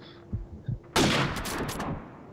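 Gunfire in Call of Duty 4: Modern Warfare comes first as a couple of soft thuds, then a sudden loud burst of rapid shots and blasts that keeps going to the end.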